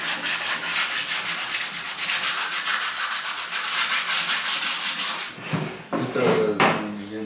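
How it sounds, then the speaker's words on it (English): A cloth rubs colour onto a mule deer or elk antler, a close, steady rhythmic scrubbing that stops near the end, followed by a few softer handling sounds. "Just a quick wipe, not really a rub."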